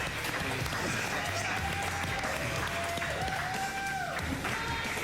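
Steady applause from a group of crew members, continuous clapping throughout at a moderate distance, with faint voices mixed underneath.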